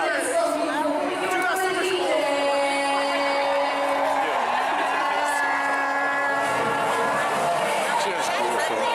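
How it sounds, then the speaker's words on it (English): A large crowd at the SF Dyke March in the Castro keeps up a steady roar of cheering, whoops and chatter with whistles and voices rising above it, loud and close throughout. "What a crowd."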